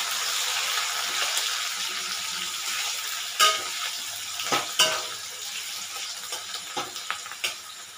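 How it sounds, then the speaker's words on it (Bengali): Chopped onions frying in a pan for Bengali egg and potato curry, a steady close sizzle with a few louder scraping stirs and light clinks toward the end, no speech. "তো পেঁয়াজটাকে ভালো করে লালচে করে ভেজে নিতে হবে।"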